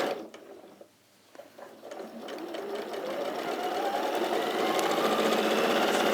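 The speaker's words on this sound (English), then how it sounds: "So I'm going to sew the bottom of the lining to the bottom of the outer fabric." Domestic sewing machine stitching the bottom of a lining to the outer fabric: a steady mechanical whirring that starts hesitantly and builds into continuous, close, fairly loud running.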